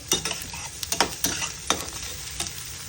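Small onions and half a head of garlic fry in oil in a home kitchen pan, with a steady soft sizzle broken by repeated scraping stirs, close and moderately loud, no talk.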